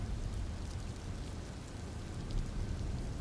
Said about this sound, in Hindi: लान में बारिश होती कितनी अच्छी लग रही होगी ना।